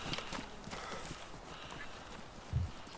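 A horse in the game DayZ gives off a clip-clop of hooves among faint ambient noise, with a thud near the end, moderately quiet.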